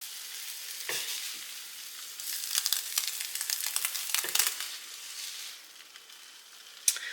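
An egg and cheese sandwich frying in a pan gives a steady close sizzle and crackle that rises and falls, with a few soft knocks and scrapes along the way and no voices.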